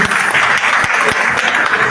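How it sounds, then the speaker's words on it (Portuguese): Loud, dense applause from an audience at a talk on women, investing and financial independence, a sustained wash of clapping with a few sharper claps standing out. "Uma salva de palmas para a Guilherme."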